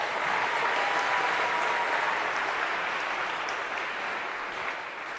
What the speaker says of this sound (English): A round of applause here if we could,